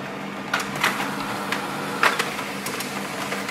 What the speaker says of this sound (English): Printer is working.